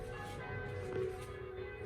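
Church bells in Venice strike the hour, heard from a hotel suite window at the Hilton Molino Stucky: a brief, soft, ringing tone with a sustained hum and no talking.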